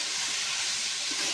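Washed greens hit a hot pan with oil in a home kitchen while a Bengali greens and salted hilsa dish is being cooked, giving a steady, bright, close sizzling hiss that runs without a break.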